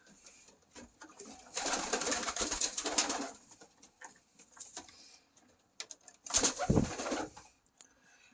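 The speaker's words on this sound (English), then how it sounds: "Here's a few birds." Pigeons in a loft, soft cooing in two separate bursts with quiet gaps of faint ticking and rustling between them, fairly faint overall.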